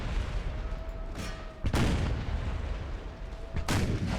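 Troops fire guns in Empire: Total War, two sharp, booming volleys a couple of seconds apart over a low rumbling battlefield din.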